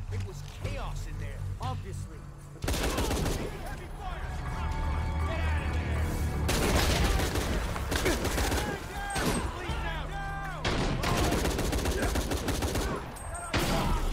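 Heavy gunfire in the action game Shadow of the Tomb Raider: rapid bursts of shots and machine-gun fire go on almost without pause. Chaotic game noise surrounds the shooting, and a voice speaks briefly over it.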